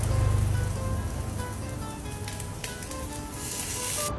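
Cherry tomatoes sizzle as they sauté in hot oil for Neapolitan pasta e patate, a steady close frying hiss with crackles throughout and no talking.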